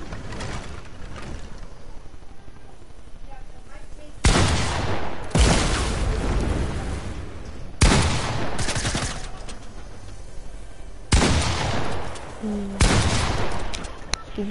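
Bursts of gunfire in a shooting video game, several loud broadband volleys separated by a steadier background of game noise, with talk faintly present.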